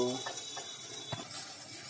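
Boiled muthiya pieces hit a hot asafoetida tempering and sizzle softly, with a few spoon clinks and stirring scrapes against the pan.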